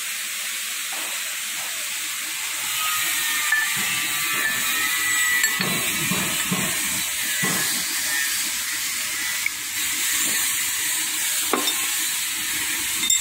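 A grinder polishes an induction-hardened gear shaft, producing a steady, continuous hiss with a thin high whine and occasional scraping bursts.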